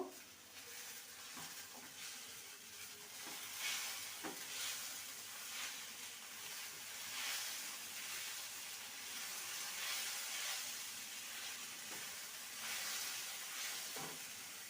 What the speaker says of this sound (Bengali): গ্যাসের ফ্লেমটা লো টু মিডিয়ামে রেখে ভেজে নিতে হবে দিয়ে দেবো স্বাদ অনুযায়ী লবণ আর হলুদ গুঁড়ো সামান্য ভালো করে নেড়ে নেব